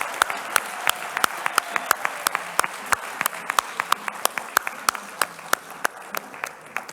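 Scattered, sparse applause from a modest audience at an international food policy awards ceremony, with distinct individual claps ringing out at a loose, uneven rhythm over a quiet room.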